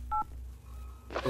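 Electronic phone tones in a horror video game: a short beep, a brief lull, then a cluster of bright dial tones, close and clear with no voices over them.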